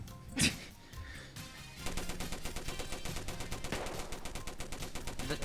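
Gunfire in the multiplayer game GTA San Andreas: one sharp shot rings out early, then after a short lull a sustained, rapid automatic burst rattles on continuously, loud and dense, with no talking over it.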